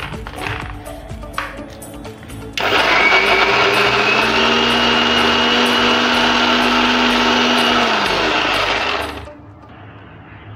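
A kitchen mixer grinder jar chops and grinds cut ginger with sesame for til chutney, roaring loudly and steadily for about six seconds after some faint clatter, then cutting off abruptly.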